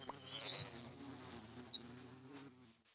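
Bees in the Minecraft video game give a faint, steady droning buzz with slight swells, and nobody speaks over it.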